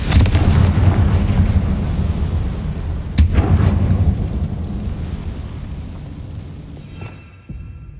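Confringo blasting spell explosion in Hogwarts Legacy: a loud rumbling bed with a sharp blast near the middle, then fading toward a quieter tail with one last thump.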